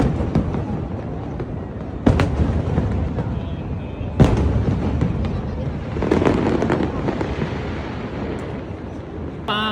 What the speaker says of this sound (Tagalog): Mga fireworks, my goodness.